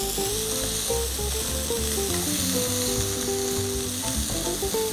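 Small pieces of beef for beef bourguignon browning in a frying pan, a loud continuous sizzle heard up close, with faint background music underneath.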